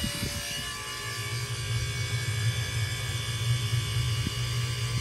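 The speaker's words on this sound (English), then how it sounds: "Throw in another auger cycle on zero." Pellet grill auger motor running after an auger jam, a steady low electric hum and whir that holds constant, close and continuous.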